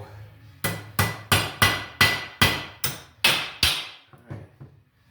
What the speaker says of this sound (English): I need a little tapper here.